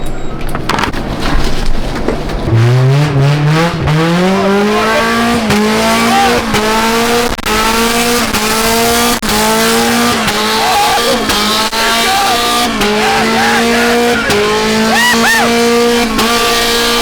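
A 60hp Honda Civic drifts on McDonald's trays, its small engine revving and wavering in pitch while the tyres squeal and skid in loud, sweeping bursts close by.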